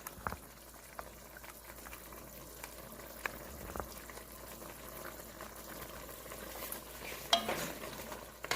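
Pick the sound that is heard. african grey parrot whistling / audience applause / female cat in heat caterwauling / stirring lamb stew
stirring lamb stew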